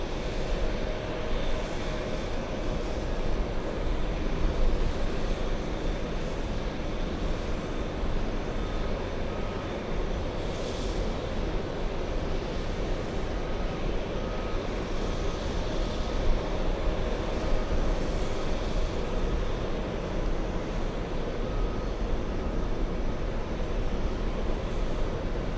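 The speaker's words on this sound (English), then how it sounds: "Let's go for the A330 touching down." Continuous broadband jet roar from an Airbus A330 airliner touching down at Los Angeles airport, steady and fairly loud throughout with a low rumble and no distinct peaks, heard from a distance with no voices.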